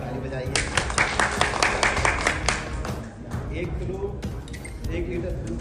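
A crowd at a public gathering breaks into loud applause of many hands clapping together, which fades partway through and then picks up again more thinly.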